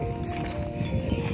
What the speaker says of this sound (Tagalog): Mayroong kabayo.